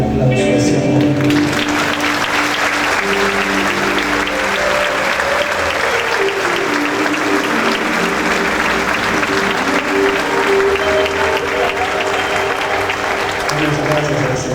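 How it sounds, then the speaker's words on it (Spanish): Church congregation giving a loud, sustained round of applause after a worship band's performance, dense clapping filling the room for over ten seconds, with music or voices faintly audible at the start and end. "Denle un fuerte aplauso a ese amor."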